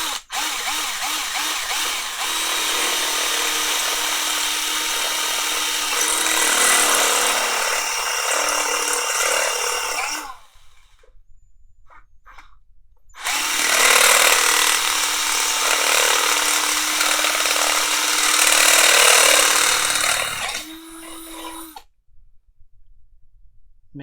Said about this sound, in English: We'll get on this again and do some drilling.